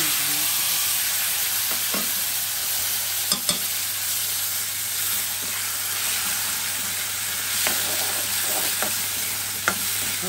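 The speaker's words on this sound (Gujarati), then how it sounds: "હવે જ્યાં સુધી ચડે નહીં ત્યાં સુધી આપણે એને તેલની અંદર શેકશું." Food frying in oil with mustard seeds and asafoetida, a constant dense sizzle running throughout with occasional faint clicks and pops, under a steady low hum.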